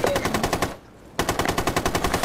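Automatic gunfire in Rainbow Six Siege rattles in fast, loud, even bursts, briefly cutting out before resuming at the same rapid rhythm.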